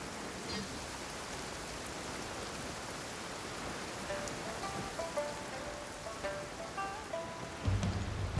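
Soft, steady rainfall patters throughout a scene in the video game Genshin Impact, a faint, even hiss of drops with a few light tonal chimes from the game's music toward the end.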